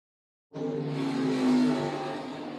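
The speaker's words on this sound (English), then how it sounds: "urt Taylor in the Honey Creek collision lane dialed 590 in his Camaro." Drag racing cars, a Camaro and a Chevy Vega, launch at once with a sudden loud engine roar that holds steady and swells briefly, close and alone.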